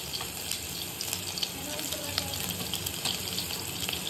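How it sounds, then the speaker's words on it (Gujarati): Asafoetida and a garlic, ginger and chili paste fry in hot oil, giving a steady, close hiss and crackle with faint stirring scrapes throughout and no talk. "તેલ ગરમ થઈ જાય એટલે આપણે તેમાં હિંગ એડ કરી દેશું. ત્યારબાદ લસણ, આદુ, મરચાંની જે પેસ્ટ કરી હતી તે એડ કરી દેશું."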